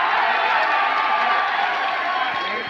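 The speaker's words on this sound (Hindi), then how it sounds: "कृपया जोरदार तालियां बजा करके स्वागत करने का काम करें।" An outdoor crowd at a Bahujan Samaj Party election rally in Jaunpur keeps up dense, steady applause and cheering throughout.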